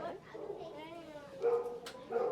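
Dogs in a kennel at feeding time give a few yips and whimpering barks, moderately close, with a voice talking through the clip.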